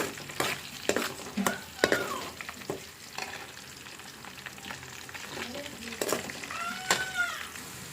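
Onions, curry leaves and tempering seeds fry in oil with a steady crackling sizzle, broken by sharp stirring scrapes and clatters of a utensil against the pan.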